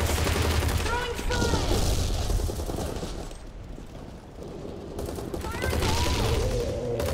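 Rapid bursts of video game gunfire as a mummy is shot, dense and loud throughout with brief lulls, while voices talk over the action.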